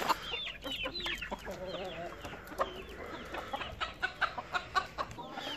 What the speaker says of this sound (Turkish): Bir horozumuzu serbest bırakalım bakalım.